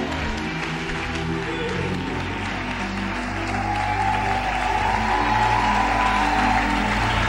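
A church congregation applauding steadily for several seconds, a dense, continuous wash of clapping that swells slightly toward the end.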